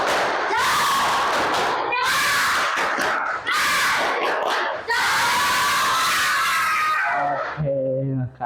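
A classroom of students performs a loud group chant with rhythmic claps, delivered in several energetic shouted bursts with short pauses between them.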